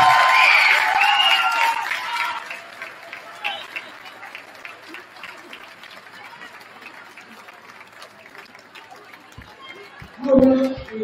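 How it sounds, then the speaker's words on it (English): Applause for a family at a high school varsity basketball game, hand clapping strongest at the start and fading into scattered crowd noise, with a brief louder burst near the end. "How about a nice round of applause for the Kieran family?"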